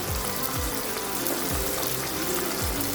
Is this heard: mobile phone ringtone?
no